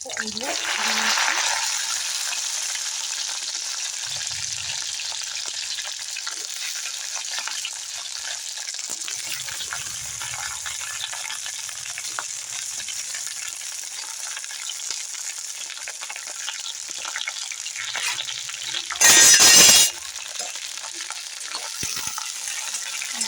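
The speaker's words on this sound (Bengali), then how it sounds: "আগে ঢ্যাঁড়সগুলো আমি তেলে ভালো করে ভেজে দিচ্ছি" Okra frying in hot oil for a yogurt okra dish gives a steady, close, loud sizzling hiss that runs throughout, with light stirring and a brief louder burst near the end.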